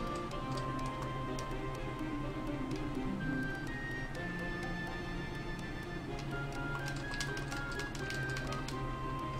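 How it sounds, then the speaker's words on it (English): Gamepad buttons are pressed during play of Final Fantasy on the NES, giving faint quick clicks that tick in irregular bursts beneath soft game music. "if you listen closely, you can probably hear me clicking buttons on my gamepad"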